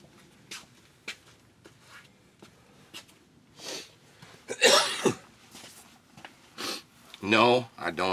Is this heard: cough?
yes